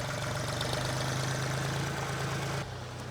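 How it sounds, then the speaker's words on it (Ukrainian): A tractor engine idles steadily with a low rhythmic chug, close and constant, then drops slightly in level near the end. "Для того, щоб трактор не піднімався, брати трошечки підгружають його"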